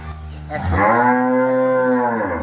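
A dairy cow on a farm with forty milking cows gives one long, loud, close moo lasting about two seconds, heard alone.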